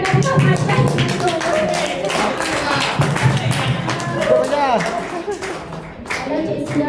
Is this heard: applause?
yes